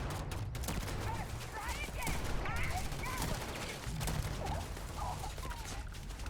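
Rapid bursts of turret gunfire in the sci-fi game Starfield, a sustained crackling fusillade with dense repeated shots running through most of the moment, loud and close amid game ambience.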